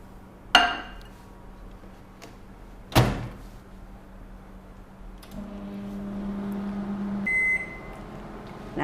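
A microwave oven hums steadily while cooking thirattu paal milk sweet, its low drone rising louder midway and ending with a beep, preceded by door clunks and a sharp click.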